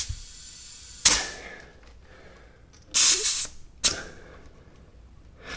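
Air chuck pressed onto pop-up camper tire valves in short bursts: sharp hissing puffs of air, three or four separate blasts with quiet gaps between them, close and loud.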